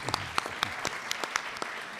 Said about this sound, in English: We applaud you, Mike.